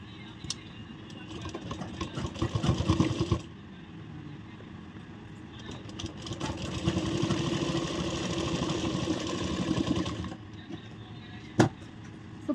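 A sewing machine stitches a blouse seam in bursts of steady mechanical whirring, stopping and starting with brief pauses and a sharp click near the end, under someone speaking.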